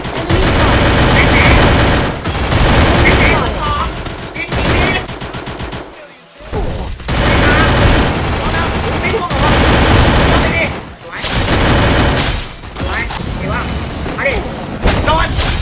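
Gunfire rings out in a Free Fire mobile battle royale match: dense, loud bursts of automatic shots and booms pile up almost without pause, dropping out briefly midway, while a player's voice talks over the action.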